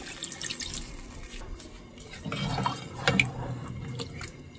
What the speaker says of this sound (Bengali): এবার মাংসটা সেদ্ধ হবে সেজন্য পানি দিয়ে দিচ্ছি